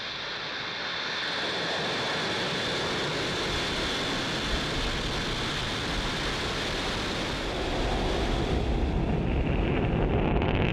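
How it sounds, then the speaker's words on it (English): A SpaceX Falcon 9 rocket lifting off on a Starlink mission, a broad, steady, crackling roar that fills the whole clip and grows slightly heavier toward the end, heard from a distance with no voices. "Liftoff."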